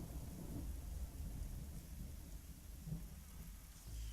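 A thunderstorm in the game Chaos on Deponia: low rolling thunder rumbles beneath a steady wash of rain, faint and distant throughout.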